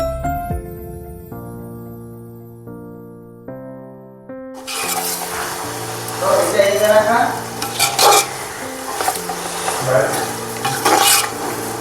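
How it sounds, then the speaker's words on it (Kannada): Food frying in hot oil while being stirred, a steady broadband sizzle with scraping stirs, preceded by a few seconds of tonal music before the cooking noise takes over. "ಎಲ್ಲ ಚೆನ್ನಾಗಿ ಫ್ರೈ ಮಾಡಬೇಕು ಎಣ್ಣೆಲಿ, ಆಯಿತಾ?"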